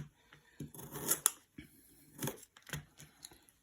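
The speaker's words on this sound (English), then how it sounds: "I'm going to cut the ends off" A knife trims the ends off a vegetable for a chef salad, several crisp short cutting clicks and snips in quick bursts, close and quiet with no talk.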